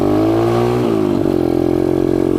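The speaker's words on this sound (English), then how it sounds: "I guess you have to run the bike for a little while before flooring it" A pit bike engine, just after an oil change, runs loud and close, holding a steady throbbing idle before its pitch shifts and settles into a higher, sustained drone.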